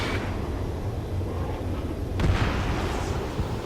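Missile explosion in Ace Combat 7 flight combat near a mountain, a sudden booming burst partway through over a constant jet engine roar, loud and fairly close.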